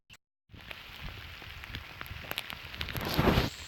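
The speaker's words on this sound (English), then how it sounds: "the rain is coming on pretty hard now" Heavy rain patters steadily at a bayou at night, with scattered drop impacts, building a little louder toward the end; no voices.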